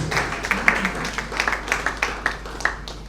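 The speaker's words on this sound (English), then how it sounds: "Round of applause." A conference audience gives a round of applause to welcome a panel speaker at an international trade law event, a steady patter of many hands clapping at moderate distance.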